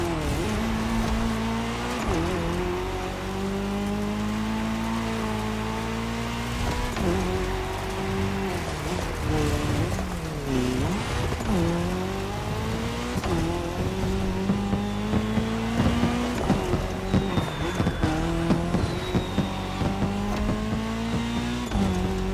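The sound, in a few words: race cars driving in cross-terrain race, video game The Crew Motorfest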